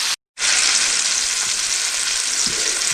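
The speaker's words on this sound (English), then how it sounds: "this is the real sound of a quality hamburger" A thick one-pound hamburger, about two inches thick, frying in a pan gives a loud, steady, close sizzle and crackle that continues without pause after a brief silent gap at the start.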